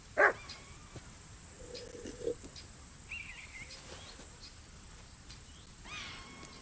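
A dog in the medieval game Kingdom Come: Deliverance II gives one short sharp bark near the start, followed by a few softer whines and yelps over quiet ambient game sound.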